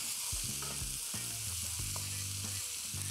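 Tomato paste sizzling loudly in a hot pan while being stirred, a constant close hiss of frying with occasional scraping of the spoon and a low hum underneath.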